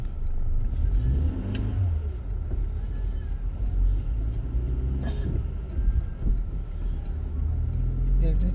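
A car moving through slow city traffic, with a continuous low engine rumble and road noise, occasional faint revving, while people talk inside the car.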